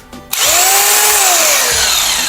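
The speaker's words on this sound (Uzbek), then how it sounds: "Juda ham yaxshi sifatli perforatorlardan bo'ladi." A rotary hammer drill spins up after a click and then runs at a steady high whine with a slight pitch drift, loud and close, with no one talking.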